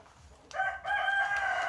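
A rooster crows close by, a loud sustained call that begins with a short rising note and then holds steady until the end, with no talking over it.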